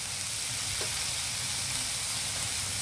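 Potato, carrot and onion fry in a pan for a mixed vegetable stir-fry, giving a steady, even sizzle that continues unbroken throughout with no one talking.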